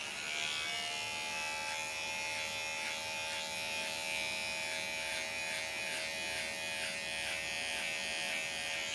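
An electric beard trimmer buzzes in a steady, continuous high-pitched drone, close and even for the whole stretch, with faint changes in tone as it moves through hair and no talking.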